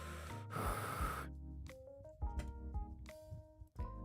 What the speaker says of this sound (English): Is the heavy breathing new?